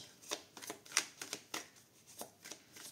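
Tarot cards are handled and shuffled, giving a quick series of close, crisp snaps and slaps at an uneven rhythm.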